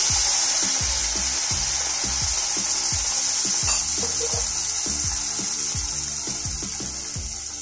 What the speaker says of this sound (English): Keep adding in batches, because as you see, this is going to start spluttering.